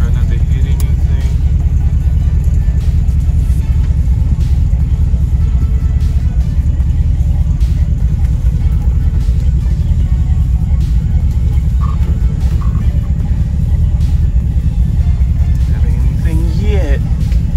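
A Ford Ranchero's engine rumbles steadily as the car is put in drive and rolls off, a loud, constant low drone heard from close by.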